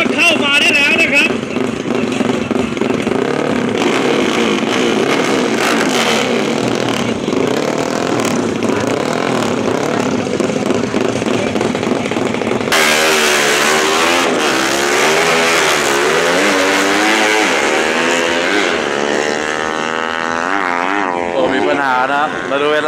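Yamaha Exciter motorcycles at a speed racing event in Thailand roar loudly and continuously, engines revving high and shifting pitch as bikes pass, while an announcer talks over the PA throughout.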